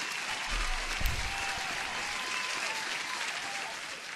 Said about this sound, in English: Let me give you an applause, Holy Grail.